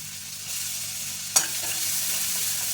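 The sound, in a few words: onion frying in butter with cumin, being stirred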